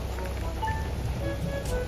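Rain falls steadily outdoors near a parked vehicle, a constant fine patter that fills the short stretch without pause.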